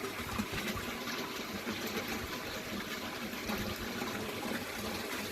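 An automatic siphon drains water from an aquaponics grow bed back toward the sump, a continuous close rushing and gurgling flow that stays even throughout.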